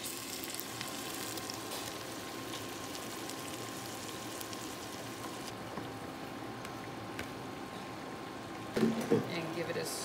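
Spinach fries in a pan for njama-njama, a low steady sizzle like light rain running throughout, with a brief louder clatter of stirring near the end.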